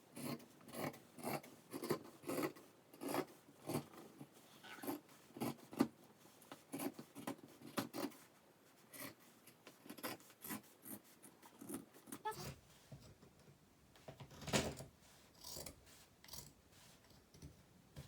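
Scissors cutting through corduroy shirt fabric, a steady rhythmic series of close, rasping snips and chomps that continues for the whole stretch, with the blades' movement audible between cuts.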